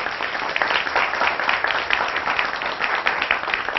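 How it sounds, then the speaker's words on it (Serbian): A TV studio audience claps for a ballet choreographer, an even, continuous round of applause at moderate volume with slight pulses in the clapping and no one speaking. "Jedan aplauz za Maju."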